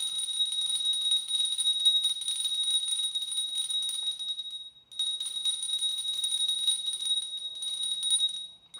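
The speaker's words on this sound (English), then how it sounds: "I'm actually gonna use my bell." A hand bell rings continuously with a bright, high metallic tone, pausing briefly midway before the rapid ringing resumes.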